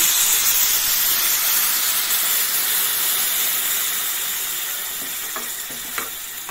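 Water poured into a hot pan of lata (vine greens) curry sets off a loud, steady sizzling hiss that slowly fades, with a couple of small clicks near the end.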